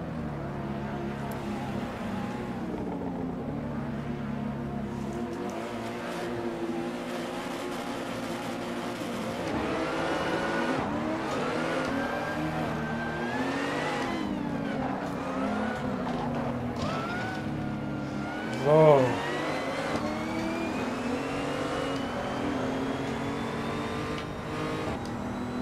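A BMW 235i engine revs and accelerates hard at a race start on the Nordschleife in a racing game. Engine tones climb and shift through the gears, with other cars roaring close by and a brief skid or bump near the end.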